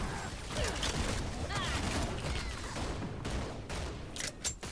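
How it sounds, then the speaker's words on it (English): Rapid bursts of shotgun skill fire from a Gunslinger fighting a guardian raid boss in Lost Ark, dense crackling blasts with mechanical clanks and a few sharp booms near the end, under faint speech. "and then use my shotgun skill again"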